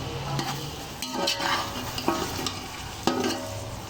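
Soaked, boiled chickpeas stirred in a pot for channa pulao, a spoon scraping and knocking the pot in a few distinct strokes over a soft sizzle, close up and with no talking.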